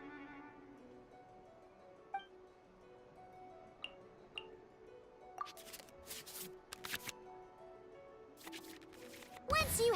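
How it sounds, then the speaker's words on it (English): Digital cards are shuffled back into the draw pile in the Genshin Impact video game, heard as a soft chime followed by a run of quick flicking card sounds and a louder swoosh at the end. "we can select any number of cards in our hand to shuffle back into the draw pile"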